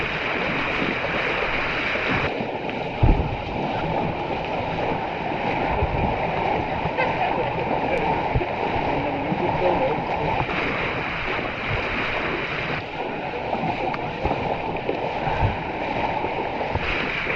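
Floodwater sloshes and splashes steadily as people wade through it during rescue work in Moorkanikkara, Thrissur, with voices talking over the churning flow.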